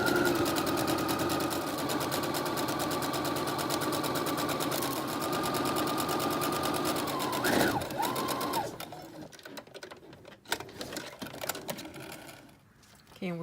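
Sewing machine stitching a side seam down fabric, a fast even mechanical whir running steadily, then stopping into quieter handling clicks near the end.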